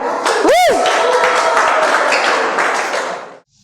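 Classmates clap for a student during a classroom lesson, a few seconds of mixed, uneven clapping with a brief whistle-like sweep near the start, then the clapping thins and stops abruptly.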